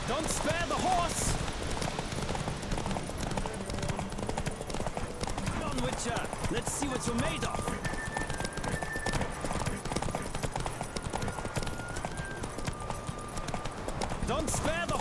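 Racing horses gallop in The Witcher 3, hoofbeats drumming continuously and close, while a rider calls out over the running and a brief whinny rises.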